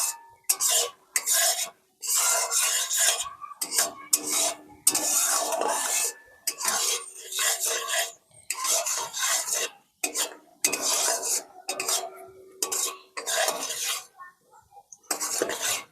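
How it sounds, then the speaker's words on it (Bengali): A spoon scrapes and stirs a thick sesame laddu mixture in a pan over low heat, in steady repeated strokes with short pauses, close and fairly loud, with no talking. "এইভাবে আস্তে আস্তে জাল দিতে থাকতে হবে আর নাড়তে হবে।"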